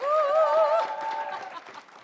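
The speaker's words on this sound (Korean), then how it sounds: "자 다시 한번 크게 박수 한번 주세요." Audience at a blockchain industry policy forum in Korea claps, the applause spreading then fading, with a voice carrying over the first part.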